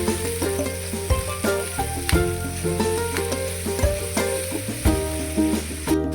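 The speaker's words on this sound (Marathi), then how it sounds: "आता आपला कांदा निम्मा परतून झालेला आहे" Onions with salt sauté in a pan, giving a loud continuous crackle and sizzle with regular scrapes of a spatula stirring through them.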